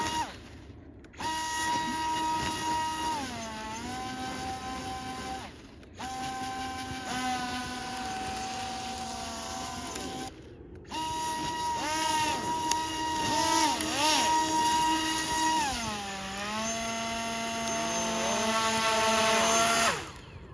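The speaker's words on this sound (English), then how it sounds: "you can kind of hear the sand getting in the motors, but it's like, these are older motors." Small drone-part motors whine on a homemade RC hovercraft running over sand, with sand getting into older motors. The steady buzzing tone rises and falls in pitch over several bursts separated by short gaps, fairly close.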